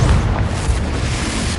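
A wizard's blasting spell explodes in a video game, a loud, heavy rumbling boom that rolls on for over a second without any voices.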